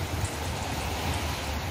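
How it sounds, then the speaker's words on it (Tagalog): Heavy afternoon rain pours down in Kuwait at a work site, a steady, dense hiss of drops that stays even and unbroken throughout, with no voices. "malakas guys ang ulan dito sa Kuwait sa ngayong hapon"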